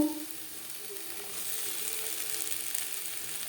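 Brinjal frying in a pan over a low-to-medium gas flame gives a steady, soft sizzle that runs alone throughout, with a brief louder burst at the start.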